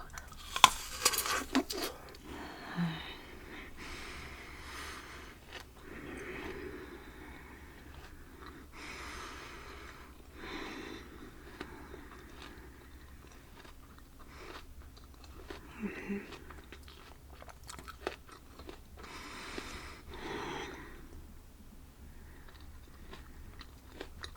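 A crunchy snack being bitten and chewed close to a sensitive microphone, scattered crisp bites followed by softer chewing with pauses between, quiet and intimate, no talking.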